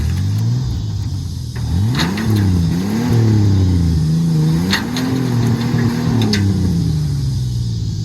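A Ford Ranger truck engine revs and strains steadily while pulling, its pitch rising and falling in waves over several seconds, loud and close with brief sharper noises above.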